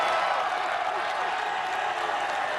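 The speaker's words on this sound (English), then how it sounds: "And the crowd is going wild." At a Sasuke obstacle course competition, a crowd cheers and applauds in a broad, continuous roar. The sound is moderately distant and holds steady throughout.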